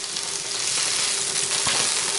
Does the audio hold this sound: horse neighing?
no